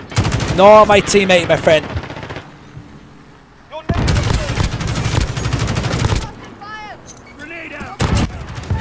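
Kilo 141 assault rifle fire in a Call of Duty match on the Piccadilly map, loud full-auto bursts in two or three long strings, with someone talking between and over the shooting.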